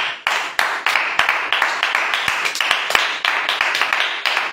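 A church congregation claps in praise of the Lord: many hands striking together in a steady, brisk rhythm, loud and close, with no voices.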